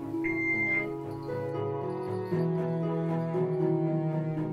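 A steady electronic beeping tone sounds continuously at close range, its pitch stepping between a couple of levels, with no talking.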